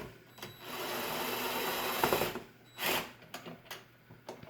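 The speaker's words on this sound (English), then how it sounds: "We like the impact driver just because of its ease" An impact driver backs screws out of a TV wall mount, a sustained mechanical whirring rattle followed by a short burst and a few scattered clicks and clanks, fairly close.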